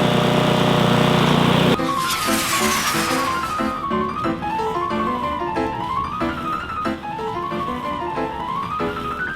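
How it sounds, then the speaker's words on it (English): Small kids' toy-style lawn mower running loudly while mowing a garden lawn, starting with a harsh engine burst then settling into a steady whirring drone with a repeating rising-and-falling tone, no talk over it. "Oh, it's noisy. Let's mow the lawn."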